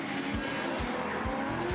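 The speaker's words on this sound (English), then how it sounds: "You can see those tyres just peeling as well." Drift cars slide across a dry track at Queensland Raceway during a Drift Allstars round, their tyres squealing in a loud, continuous roar under regular low engine thumps.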